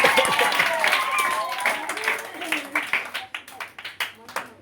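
School children clapping at a puppet show, a loose burst of applause that thins into scattered individual claps, with voices talking over and between the claps.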